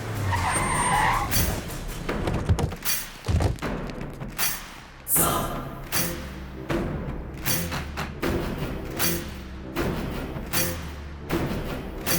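A car skids as it pulls to the roadside in a Hindi-dubbed South Indian action film, tires screeching amid heavy thuds and bursts of dramatic soundtrack over about twelve seconds.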